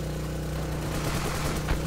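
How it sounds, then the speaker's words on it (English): Dense gunfire in the snowy mountain map of Ravenfield, a steady rattle of automatic weapons and scattered shots layered over a constant low battle rumble, with no voices. "They're already shooting at me."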